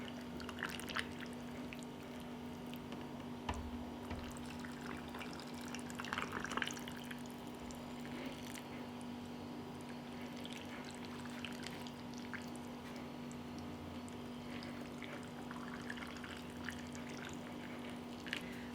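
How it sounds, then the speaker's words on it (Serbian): Freshly boiled water poured into glass jars already holding vinegar, faint trickling, dripping and splashing in an irregular stream with a steady low hum underneath, no talk. "Zatim ću sada tegle napuniti sa proključalom vodom."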